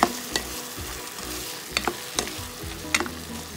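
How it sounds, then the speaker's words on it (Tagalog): Pechay with canned sardines cooks in a pan, a close steady sizzle and bubbling broken by several sharp clanks of a utensil against the pan, with no talking. "Ayan po natin kumulo."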